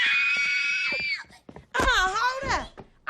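Girls in an animated movie scene, The Proud Family Movie, scream loudly and at length in two long, piercing bursts with a short gap between them.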